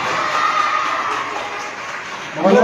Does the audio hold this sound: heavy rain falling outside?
no